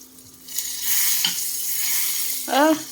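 A corn snack cooking in butter in a pan, a steady sizzle and frying hiss with occasional scraping stirs, close and fairly loud, with a short squeaky scrape near the end and no speech.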